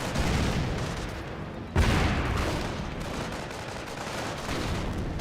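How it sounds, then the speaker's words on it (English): A mortar shell striking an infantry squad in Company of Heroes, a sudden heavy blast punching through constant rumbling battlefield gunfire and explosions, with the impact loud and close. "Rock Squad takes another mortar hit there."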